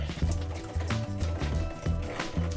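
Water rushing back into a water filter housing after the supply valve is opened a quarter turn, a steady gurgling fill with bubbling pulses, close and alone.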